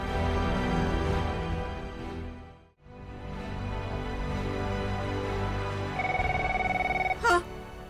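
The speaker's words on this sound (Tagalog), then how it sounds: "Agriering matitelepono." A telephone rings in a radio drama scene: a warbling electronic ring sounds late and fairly clearly over a background music bed, ending just before a short burst of another sound.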